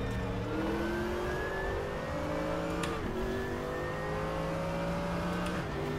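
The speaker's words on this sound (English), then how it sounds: "Listen to the engine sounds." A race car engine in the RaceRoom Racing video game revs steadily at high pitch, rising through the gears with brief dips at two shifts, continuous and fairly close, with no talking.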